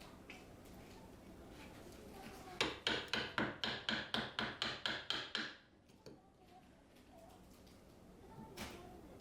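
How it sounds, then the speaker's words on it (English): A hammer strikes a Japanese chisel into wood about a dozen times in a fast, even burst of sharp close knocks, followed by quieter pauses with a few faint taps and soft background sounds. "Repeat the process on the opposite side, chiseling along the guide cuts."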